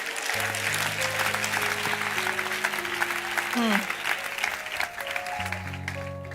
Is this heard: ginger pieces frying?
no